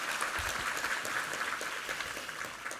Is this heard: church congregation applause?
yes